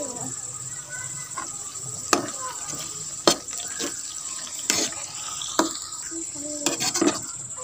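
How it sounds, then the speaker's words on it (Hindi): Green chillies and tomatoes fry in a pan for bhindi aloo, with a low, continuous sizzle broken by several sharp scrapes and taps of a spoon stirring. "हरी मिर्च और टमाटर को अब अच्छी तरह भूनेंगे"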